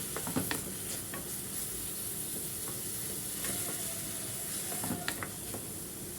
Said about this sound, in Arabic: هنقلبه كده لغايه ما يدبل